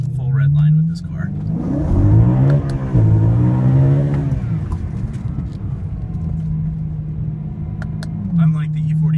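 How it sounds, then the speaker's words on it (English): A car engine rises in loud, close revs toward the red line, holds, then settles back to a steady idle-like drone, while a person talks over it. "So now we can hit full red line with this car."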